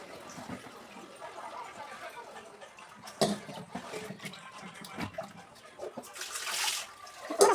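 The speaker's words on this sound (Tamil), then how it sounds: "இப்போ நம்ம வாஷ் பண்ணிக்கலாம்." Peeled carrots are rinsed under running water in a home kitchen, giving a steady, moderately loud splashing wash with a few sharper splatters and a rising gush near the end.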